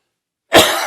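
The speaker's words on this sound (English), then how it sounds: "we hit the cough button for that" A single sharp cough bursts out suddenly after a moment of silence, close and loud, with a brief rough tail.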